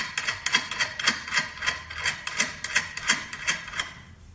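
Nuts being turned and tightened on a machine handle assembly, giving a steady series of about a dozen rhythmic metallic scraping ratchets, close and fairly quiet, with no talking.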